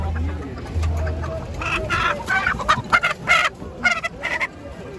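A black rooster crows and clucks in several short bursts amid low market bustle at an open-air market in Kırıkkale, Turkey, fairly close and clear.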